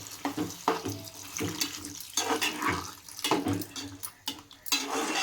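Water poured into a pan of dried fish and cucumber curry, splashing and gurgling in uneven bursts with a few clinks of utensil against the pan, close by.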